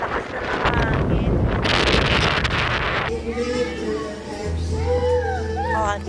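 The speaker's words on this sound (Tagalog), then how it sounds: "Sobrang hangin. Iwan ko lang. Lakas na ng hangin." Strong sea wind roars and buffets the microphone for a few seconds, then eases as people talk over the lighter gusts.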